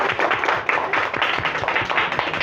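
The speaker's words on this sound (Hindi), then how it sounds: "एक बार जोरदार तालियां" Audience applause at a yoga championship award ceremony in India, a dense, steady wash of many hands clapping together that holds loud and even for the whole stretch.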